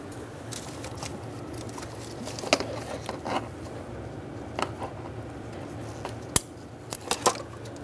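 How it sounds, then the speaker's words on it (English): Wire ties on the spark plug wires of a 2000-2007 Ford Taurus are snipped under the hood, a few sharp cutter clicks scattered over faint handling noise and background hum. "So to start off, I'm going to cut all these wire ties."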